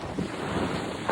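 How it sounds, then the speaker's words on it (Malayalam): Strong wind buffeting the microphone while kayaking in rain on a river from Warsaw toward Gdańsk, a continuous loud rushing roar with water sloshing, brief and unbroken. "നല്ല കാറ്റുണ്ട് കേട്ടോ"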